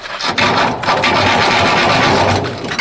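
A DeWalt reciprocating saw cuts through the heater channel of a VW Beetle with a loud, continuous rasping buzz that starts abruptly and carries on steadily to the end.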